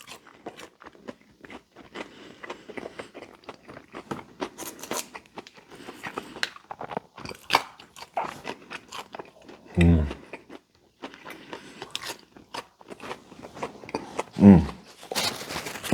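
Someone eats crunchy, dill-flavored Burger King food at close range, producing intermittent crisp bites and chewing crunches with a few louder thumps, scattered across a quiet background.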